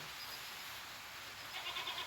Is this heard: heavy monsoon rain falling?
no